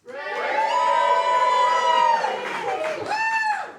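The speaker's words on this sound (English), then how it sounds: "Studio audience, it's up to you to play Cupid and decide Dane's fate. If you think Santa Claus would make a better partner, cheer like you mean it" A television game show's studio audience cheers and whoops loudly for several seconds, a sustained crowd roar full of high shouting voices.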